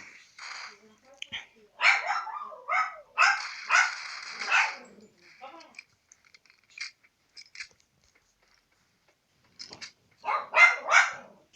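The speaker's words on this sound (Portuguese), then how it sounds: "Cachorro fica latindo toda hora." A dog barks in repeated loud bursts, close by, with short pauses between volleys and a quieter stretch in the middle, during an online Critical Ops match.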